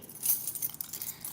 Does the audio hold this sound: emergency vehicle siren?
no